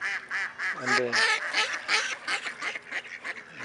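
Ducks and geese honk and quack loudly and close by in a park while being fed, a dense overlapping chorus with a voice speaking briefly among the calls.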